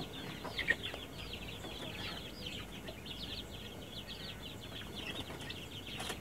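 One-month-old joper chickens cluck and chirp softly in a group, a steady overlapping patter of short high calls over a low background hum at a distance.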